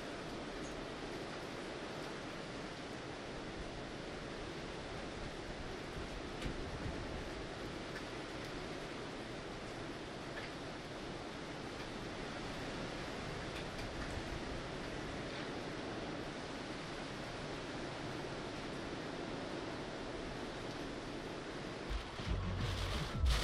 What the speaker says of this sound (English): the beach can't even handle how big the waves are trying to push right now